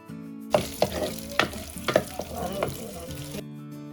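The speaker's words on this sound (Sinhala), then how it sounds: "ඔන්න ඉතින් දැන් තෙල් ටිකුත් රත් වෙන්න දාලා ඒකට අබෑටයි ඊට පස්සේ රම්පේ කරපිංචා සුදු ලුණු ඒ ටික දාලා පොඩ්ඩක් ටෙම්පරාදු වෙන්න දෙන්න ඕනි." Mustard seeds, pandan, curry leaves and garlic tempering in hot oil, giving a close, steady sizzle. Sharp pops and crackles break through it, then it cuts off abruptly near the end.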